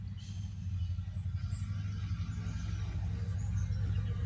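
A car and then a truck pass along a road, their low engine rumble steady and fairly loud across the whole stretch with no talk.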